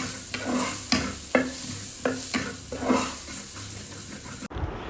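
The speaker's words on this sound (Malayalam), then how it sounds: "അപ്പോൾ അതിലാണ് കേട്ടോ ഞാൻ ചിക്കൻ കറി വെക്കുന്നത്." Chicken curry is stirred in a new clay pot seasoned with boiled rice water, a spoon scraping in repeated strokes over a soft steady sizzle, close and fairly quiet.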